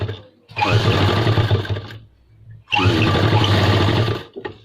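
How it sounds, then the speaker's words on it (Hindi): An electric sewing machine stitching a wallet pocket onto pants, running in two loud steady bursts of about two seconds each, separated by a short pause. "इस तरीके से हमने ये सिलाई लगा लेनी है"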